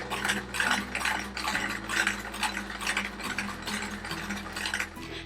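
A sewing machine stitches quilt fabric pieces together in a continuous fast mechanical chatter, close and steady, with the motor hum briefly shifting a few times.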